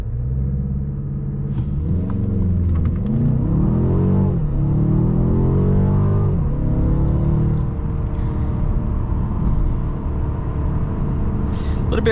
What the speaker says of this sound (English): so let's go ahead and do an acceleration right here. I'm gonna go ahead and brake boost this Benz.